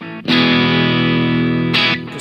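Electric guitar through a Mooer GE300 effects unit with a distortion patch punched in for solos, delay attached: one loud, sustained distorted chord ringing for about a second and a half, then a brief re-strike and fade.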